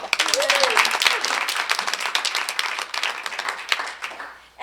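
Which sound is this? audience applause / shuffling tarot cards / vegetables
audience applause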